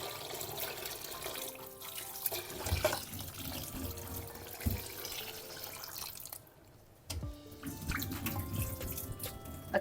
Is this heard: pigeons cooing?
no